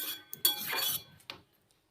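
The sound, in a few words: stirring potatoes and drumsticks with water in a pan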